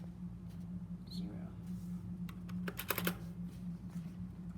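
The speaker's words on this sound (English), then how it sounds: "this is my mechanical keyboard" A mechanical computer keyboard being typed on, a few soft clicks early and then a short burst of sharp keystrokes near the middle, close and faint, while a person talks.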